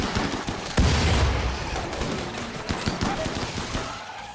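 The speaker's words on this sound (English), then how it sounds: "Grenades are actually nailing the back line" Grenade explosions and rapid gunfire ring out in a RimWorld colony battle, a loud booming blast followed by repeated sharp shots and crackling fire over continuous combat noise.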